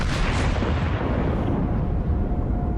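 Naval gunfire from warship cannons in World of Warships, battleship combat featuring the Imperator Nikolai: a dense, continuous roar of booming blasts and rumbling echo filling the whole stretch at high loudness, with no talking.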